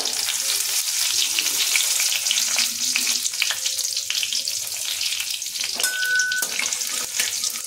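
Cumin seeds and dried red chillies fry in hot oil with a steady, crackling sizzle that stays close and continuous, with a few light clinks of a utensil.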